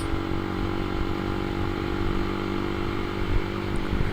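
A 2010 carbureted Honda CBR motorcycle rides at dusk on an Indonesian touring trip, giving a steady, close engine drone with road and wind roar throughout, no speech.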